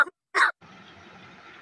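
A talking crow imitates a human cough with two short, harsh bursts close to the microphone, followed by a low, steady background hiss.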